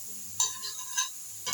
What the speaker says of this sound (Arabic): نسيب بقى البصل كده يدبل في السمنه